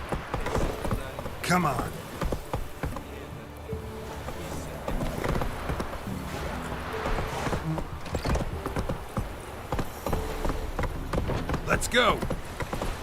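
Roach the horse in The Witcher 3 gallops with rapid, rhythmic hoof clip-clops close up, over game music, with a snort or whinny and someone speaking briefly over it.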